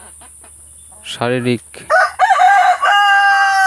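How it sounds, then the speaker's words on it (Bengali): Farm chickens cluck and a rooster crows loudly and close by, with the poultry calls filling most of the clip and a brief voice heard early on. "এই দেখেন মুরগিগুলো"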